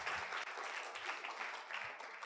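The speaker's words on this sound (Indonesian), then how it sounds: "Mohon beri aplaus untuk Tiansi dan One Vision." An audience at a business presentation event in Indonesia breaks into sustained applause, a dense steady clapping that carries on throughout.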